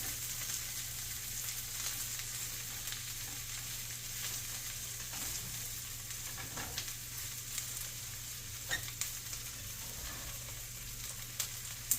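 Soy curls fry in a pan for vegan teriyaki, giving a soft, steady sizzle with faint crackles and a low constant hum underneath, no voices.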